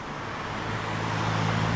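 Road traffic passes near a river with flooded meadows, a steady low rumble of cars and engines that builds slightly over the short stretch, with no voices.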